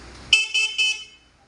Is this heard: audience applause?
no